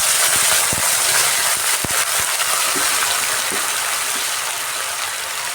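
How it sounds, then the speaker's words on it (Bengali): A little water pours into a pan of fried potatoes, making a loud, close rush and sputtering gush with a few clinks, easing off slightly toward the end, with no voices. "আলুটা দিয়ে সামান্য জল দিয়ে দিচ্ছি।"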